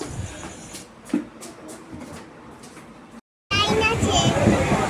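Train ride heard from inside a carriage, a rumbling rail-car hum with rhythmic clatter, briefly cut to silence and then returning louder, with people and someone talking throughout.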